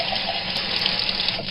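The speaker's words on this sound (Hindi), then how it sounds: "बगल की दीवार पर एक यंत्र लगा हुआ था, जिसे घुमाने पर उसमें से पानी बहने लगता था।" Water gushes steadily from a wall-mounted tap into a basin, a continuous close splashing hiss with no pauses.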